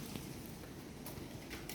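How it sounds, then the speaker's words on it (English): Rain falls steadily outside a second-floor condo room at a resort in Kissimmee, Florida, a soft, even hiss of patter that runs throughout with no voices. "Currently raining outside."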